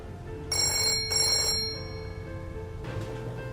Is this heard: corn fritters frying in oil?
no